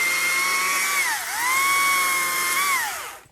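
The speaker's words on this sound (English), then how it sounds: "I do have a chainsaw right here." A chainsaw runs during woodland management work, a loud steady whine that dips twice as the engine bogs under load, then recovers before cutting off.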